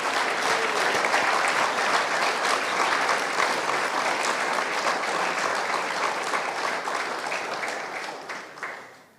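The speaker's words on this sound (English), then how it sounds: "One last round of applause for all of our winners today" Audience at the 2024 Metro Central Junior Football Conference Best and Fairest Awards Night applauds its winners, a dense, steady crowd clapping sustained for about eight seconds before tapering off at the end.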